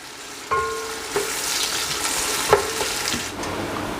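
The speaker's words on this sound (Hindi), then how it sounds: "अभी घी गर्म हो गया है तो मैं अभी इसमें शामिल करूँगा आधा किलो प्याज। प्याज को खूब मैं अच्छी तरह ब्राउन करूँगा।" Half a kilo of onions browning in hot ghee, a steady close sizzle with bursts of stirring clatter and a few faint utensil clinks, no voices.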